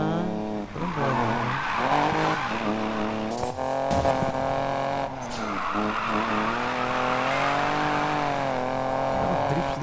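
Car drifting in Need for Speed Payback, with a long, continuous tire skid and squeal over a steady engine whine, loud and close throughout, with a brief break in the middle.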